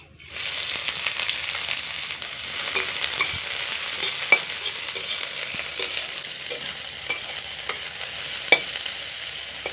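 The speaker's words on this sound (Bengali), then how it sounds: "এবার তেলের মধ্যে দিয়ে দিচ্ছি কিছুটা কুচনো পেঁয়াজ" Chopped onion sizzles in hot oil in a wok, a steady close frying hiss broken by occasional sharp crackles and pops, with no talking.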